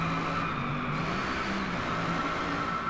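A Mercedes-Benz AMG GT3 race car engine with unrestricted exhaust in Driveclub drones steadily at high revs, a continuous buzzing roar with no talking over it.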